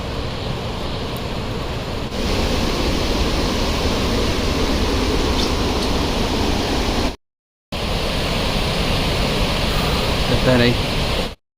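Dudhsagar waterfall roaring as a steady, loud broadband rush that runs without letup, briefly cut off for a moment before resuming.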